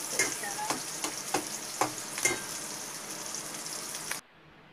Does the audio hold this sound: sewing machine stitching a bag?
no